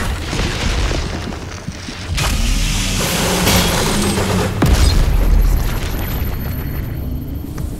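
Chiral grenade blast in Doom Eternal, a loud broadband boom that swells around two seconds and peaks with a sharp detonation near the five-second mark, layered over dense game combat noise and rumble.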